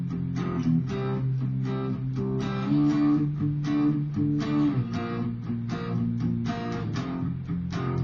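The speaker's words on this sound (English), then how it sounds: "we're going to play power chords, but we're also going to have the octave on top of it" Power chords with the octave on top, played on guitar: steady, fairly slow strummed chords with a thick low-mid body keep a repeating rhythm, moderately loud and alone, with no talking over them.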